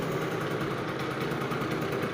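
A Peugeot Ludix moped engine idles steadily, a buzzing, slightly pulsing putter held at a constant speed close by, still needing adjustment.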